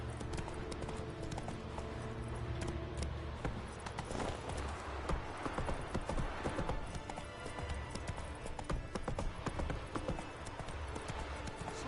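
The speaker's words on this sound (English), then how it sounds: "Whoa there, Roach" Hoofbeats of a horse trotting in The Witcher 3: Wild Hunt, a steady clip-clop rhythm running the whole time over a busy in-game soundscape with music and ambience.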